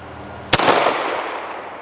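A single close, sharp gunshot from a British Enfield chambered in 45 ACP, firing a 200 grain semi-wadcutter, cracks once and then fades in a rolling outdoor echo.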